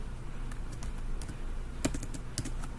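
Light, quick taps on a computer keyboard while entering a median formula into an Excel spreadsheet, a short run of close, quiet keystrokes ending in a slightly firmer press of the enter key.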